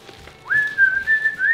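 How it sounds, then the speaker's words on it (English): A person whistles a short tune close by, a single rising note held and then repeated in brief phrases, clear and alone. "Can you not whistle ever?"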